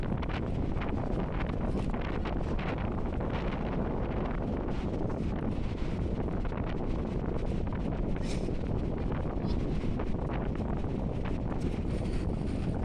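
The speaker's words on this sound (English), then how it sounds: "Now with it being so windy" Steady, heavy wind on a seafront in January buffets the microphone with a constant low roar and rumble, gusting throughout with no voices.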